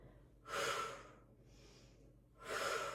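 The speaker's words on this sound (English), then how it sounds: "I like to breathe out when I lift, and then I breathe in as I lower" Audible breaths during a Pilates mat exercise: a strong exhale, a softer inhale, then another strong exhale, close and clear with no talking.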